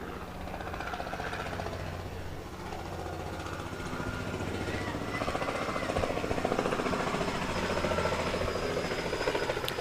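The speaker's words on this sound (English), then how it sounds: "decided what the over-under was for the number of helicopters that fly over" A helicopter passes over a youth baseball game at the Cal Ripken World Series, a steady thudding rotor drone that swells louder toward the middle and stays prominent over the crowd ambience.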